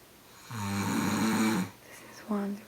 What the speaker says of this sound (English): snore. It's been going on for like 30 minutes.